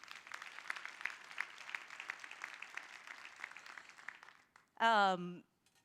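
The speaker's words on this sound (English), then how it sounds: "Let's give her another round of applause." Audience claps steadily at a women's leadership forum for the First Lady, a moderately loud rattle lasting several seconds before fading out, then a single voice speaks briefly.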